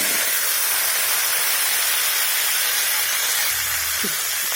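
Pointed gourd and small cut potatoes frying in a pan give a steady, close hiss of oil, broadband and unbroken, with a brief low clunk near the end.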